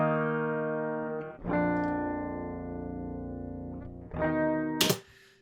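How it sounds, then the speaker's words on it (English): Clean electric guitar chords ring out sustained, changing chord twice, with a soft pick scrape at the end. "We have the guitar chords clean,"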